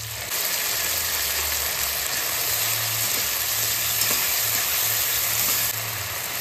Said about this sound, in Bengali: এই পেস্টটা একটু ভাজা ভাজা হয়ে যাবে, তারপর আমি বাকি সব দিয়ে দেব।